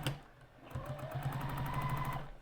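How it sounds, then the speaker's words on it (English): Sewing machine stitching along quilt binding, a steady rapid mechanical whir with a fast needle rhythm after a brief pause near the start, close and fairly even in level. "I'm going to sew that whole piece again"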